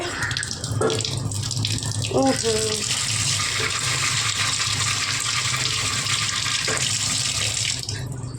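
Food being rinsed under a running kitchen tap, a steady broad rush of water lasting throughout, with a voice briefly heard near the start.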